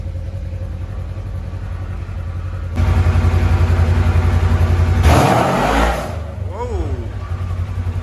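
A Polaris RZR side-by-side, rebuilt after a wreck, runs loud and steady, then its engine rises into a hard rev with a burst of tyre noise before settling back down. A short exclamation comes partway through.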